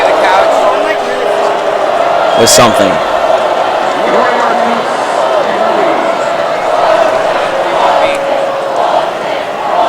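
Football crowd at a high school homecoming game, York Varsity against Lyons Township, murmuring and stirring with a sharp burst of noise near the middle while a voice speaks over the stands.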